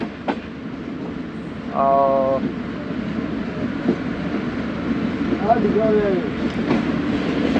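A container goods train rolls past on the tracks with a steady rumble and faint clickety-clack, a horn sounding briefly early on and a few squeals later, heard from nearby.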